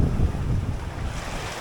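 Wind and Atlantic waves of about four feet surround a small 21 ft home-built sailboat at sea, a continuous loud low rush with heavy wind buffeting on the microphone and no voices.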